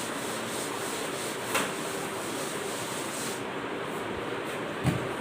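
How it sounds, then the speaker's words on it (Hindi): An eraser rubs out writing on paper during a maths lesson, giving a steady, soft scrubbing hiss with a couple of brief scuffs, close and alone. "मैं रब करने जा रही हूँ।"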